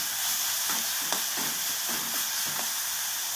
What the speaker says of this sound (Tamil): இஞ்சி பூண்டு பேஸ்ட் போட்டுக்கலாம். அதை பச்சை வாசனை லைட்டாக போகிற மாதிரி வறுத்தா போதும்.